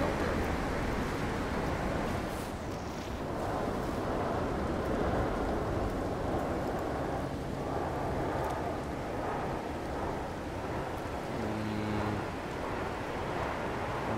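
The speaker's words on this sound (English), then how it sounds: "it's a fucking nightmare storm" Storm in No Man's Sky, a constant dense roar of heavy rain with low rumbling thunder underneath, steady and loud throughout, with faint bits of other game sounds and no clear talk.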